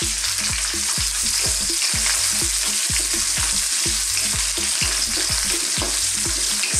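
Garlic and onion stir-fried in a hot pan for a Thai seafood dish, loud steady sizzling with rhythmic scraping strokes of the utensil, close and continuous, no voices.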